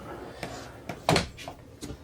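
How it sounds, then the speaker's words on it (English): A door shutting inside a 2023 Grand Design Imagine 2910 BH travel trailer gives one solid, close thump in the middle, with a few lighter knocks and clicks before and after it in a quiet interior. "Door shut"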